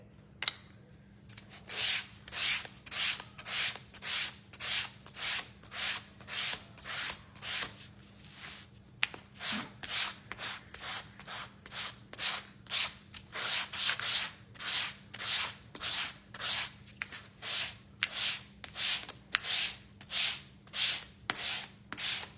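Steady back-and-forth sanding strokes on a wooden gnome craft piece, dozens of even rasping passes in a regular rhythm, close up with no talking.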